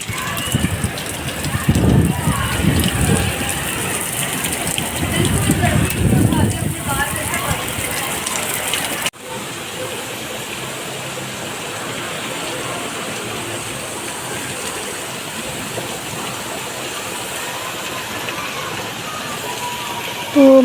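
Heavy rain pours down in a steady dense hiss, loud and continuous, with some rumbling and handling noise in the first part before it settles into an even downpour.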